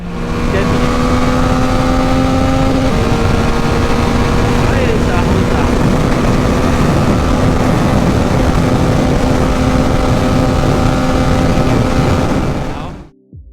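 Yamaha XSR 900 motorcycle pulling away from a standstill, its engine note holding steady and then stepping up in pitch, loud and close for over ten seconds before cutting off abruptly at the end.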